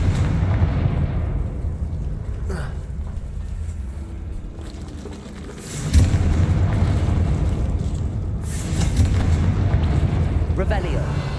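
A Confringo fire spell explodes in Hogwarts Legacy with a sudden loud blast that swells into a sustained rumbling boom, set against a steady low ambient bed and a burst of later crackling.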